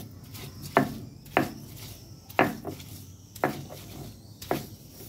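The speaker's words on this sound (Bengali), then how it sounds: "এখানে পেঁয়াজ, মরিচ, রসুন, কাঁচামরিচ, শুকনো মরিচ একবারা বেটে নেব।" Onion, garlic, green chilies and dried chilies are ground into a paste for hilsa fish bharta, with about eight steady, rhythmic scraping strokes roughly a second apart, close and alone.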